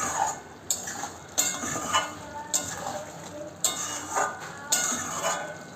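Fried prawns stirred with masala in a pan: regular spatula scrapes and clanks against the metal, about one a second, over a faint background sizzle, with no talking.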